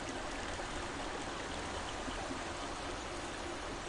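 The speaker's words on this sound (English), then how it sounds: "There's something about this waterfall, I don't know." A waterfall in Hellblade: Senua's Sacrifice pours as a constant, even broadband rush of falling water, steady throughout and without talk.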